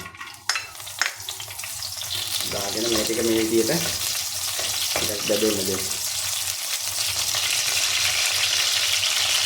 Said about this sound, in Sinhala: දැන් තෙල් ටික රත් වීගෙන එනවා. අපි මේ ටික දාගමු.